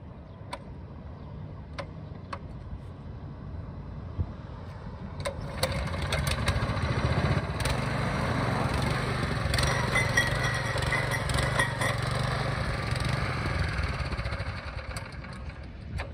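A front tine tiller engine runs close by, starting with a few sharp ticks and clatter, then rising around six seconds into a steady, rough, loud rumble that continues to the end.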